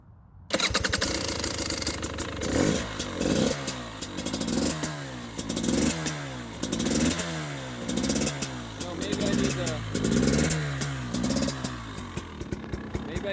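A 2020 KTM 300 XC TPI two-stroke dirt bike, started cold at -2°C, sputters into a loud near idle with repeated rev surges that falter, then stumbles toward dying.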